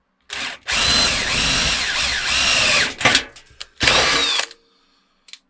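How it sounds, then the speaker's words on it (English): A power drill fitted with a large bit bores into the metal of an old PC case, a loud whining grind in two bursts with a short pause between and a brief tap at the end. "some people will start small and then work their way up with drill bits. I tend to just go big straight away."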